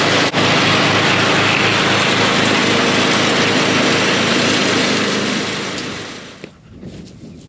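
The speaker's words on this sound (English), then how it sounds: "I'm gonna get my lawnmower and mow a little path so that it's not grounding out on the grass" Steady, loud drone of a running lawnmower engine mowing a path through grass, holding a constant rumble before tapering off near the end.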